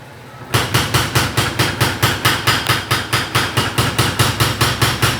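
A forge-welded steel billet for a knife is hammered in a smithy. Loud, evenly spaced ringing blows follow one another quickly, about three per second, after a short quiet start.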